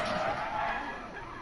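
A rally car skids and slides on a French stage in the WRC game, with a loud engine roar and tyre scrub that fades slightly over a brief moment.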